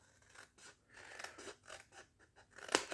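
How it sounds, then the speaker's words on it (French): Close, crisp snips of scissors cutting through paper or card for an Advent calendar box, a series of short crunchy cuts ending in one sharp, louder snip. "Je coupe."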